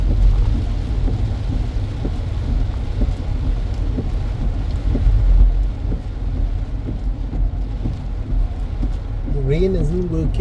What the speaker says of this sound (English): Rain isn't working with us today